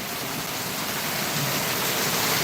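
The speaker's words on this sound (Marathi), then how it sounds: "भयानक पाऊस पडतोय मंडळी" Heavy rain pours down in a dense, unbroken roar that swells slightly louder toward the end.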